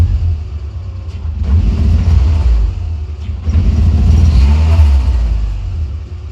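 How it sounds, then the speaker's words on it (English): A Renault Twingo race car engine idles roughly and then swells twice under light throttle blips, a loud, close, low rumble that sags back toward idle between them. "Dare I give it a little bit of throttle, see if it dies like the old one."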